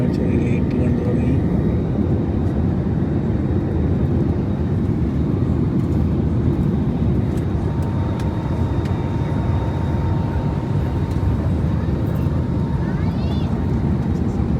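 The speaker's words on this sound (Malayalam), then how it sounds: "നമ്മൾ ലാൻഡിങ്ങിന് തയ്യാറെടുത്തുകൊണ്ടിരിക്കുകയാണ്." Steady, loud roar of an airplane cabin descending toward landing at Kolkata, a dense continuous drone of engine and airflow throughout with no talk.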